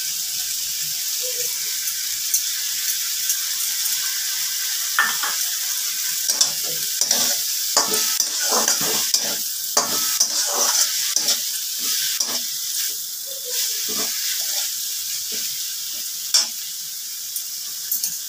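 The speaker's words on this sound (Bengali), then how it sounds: "এবার আমি এর মধ্যে সর্ষে বাটাটা অ্যাড করে" Shapla (water lily) stems fry in a pan with mustard paste and a little turmeric, a steady sizzle under repeated close scraping and stirring strokes that cluster in the middle stretch.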